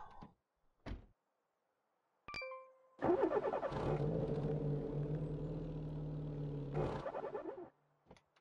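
Car engine in the video game Auto Sale Life: a few short clicks and a door-like thunk, then a steady idling rumble for about four seconds before cutting off, close and alone.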